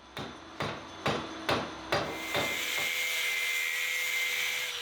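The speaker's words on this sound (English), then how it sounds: "hitting the Beyblade with a hammer" Five sharp, evenly spaced hammer strikes on a metal Beyblade ring out close and loud, each with a brief metallic decay, followed by a steady high whine with no talking.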